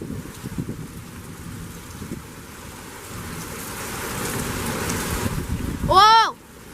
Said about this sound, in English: There's rain sheets.